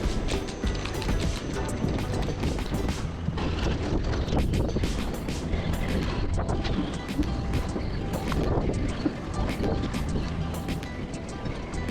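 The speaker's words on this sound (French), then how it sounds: "Ça souffle pas mal, hein. Il y a quelques claques à 40 nœuds là qui passent" Strong wind gusting to 40 knots roars across the microphone in heavy buffeting gusts, with rattling and knocking from boats rocking nearby, loud and unbroken throughout.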